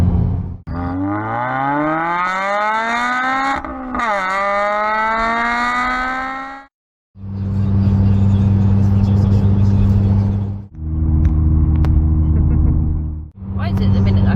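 A Honda Civic Type R FN2 driving, its engine rising in pitch through the gears with loud, close interior drone, then settling into a steady cruising hum; brief cuts break the sound.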